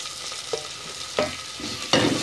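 Tomatoes stir-fried with chicken and potatoes in a pan, a low sizzle broken by three sharp stirring scrapes at close range, no talk.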